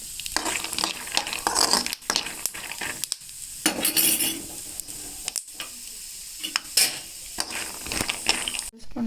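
Peanuts fried slowly in about half a tablespoon of oil in a pan for okra peanut fry, giving a continuous close sizzle with intermittent stirring scrapes and utensil clinks, with no talking.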